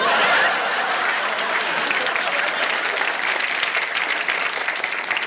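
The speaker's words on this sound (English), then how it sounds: "And the crowd goes wild." A studio audience breaks into sustained applause for a juggling act on a comedy variety show, dense clapping holding steady throughout with a few chuckles mixed in.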